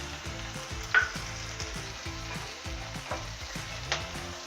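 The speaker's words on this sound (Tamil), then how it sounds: "இப்போ வெங்காயம் நல்லா வதங்கிடுச்சு." Onions frying in a pan with added salt for paneer butter masala, a steady close sizzle with recurring soft stirring scrapes and a couple of sharper clinks, no voices.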